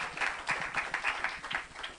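Church congregation applauding the mothers at a Mother's Day morning service, a steady roomful of clapping with rhythmic bursts, fairly distant and diffuse, no voices over it.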